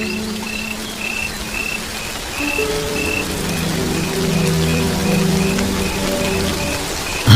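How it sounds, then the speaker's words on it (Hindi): A sudden heavy downpour over the Serengeti plains, with dense steady rain hissing on the ground and building slightly over several seconds, plus faint tonal calls in the background. No talking. "इस तरह अचानक मूसलाधार बारिश होना अजीब है"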